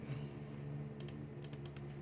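Computer keyboard typing during a Linux command-line session: bursts of clicky keystrokes in short clusters, fairly close, over a steady low room hum, with no talking.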